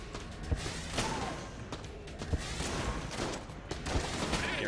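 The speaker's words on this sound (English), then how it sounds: "We'll use the void shotgun now, and then we'll deal with the rest of this room here." The void shotgun fires in the video game Enter the Gungeon, a dense barrage of repeated blasts and impacts packed tightly together with layered game effects and no break.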